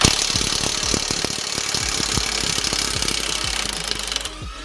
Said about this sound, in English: I'm going straight in with an impact gun